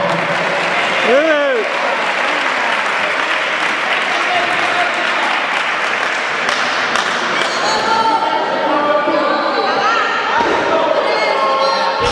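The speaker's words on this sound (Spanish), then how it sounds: "Un aplauso, por favor." Applause from the crowd at a Galician weightlifting championship snatch session, sustained clapping with cheers and whistles, occasional thuds, and an announcer's voice over it later on.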